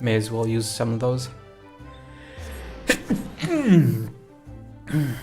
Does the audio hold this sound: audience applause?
no